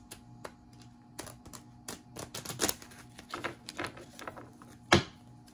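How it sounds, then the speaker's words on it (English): Tarot cards being shuffled by hand in a quiet room, a run of soft irregular riffles and taps with one sharper snap near the end, close and fairly faint. "I'm gonna shuffle again."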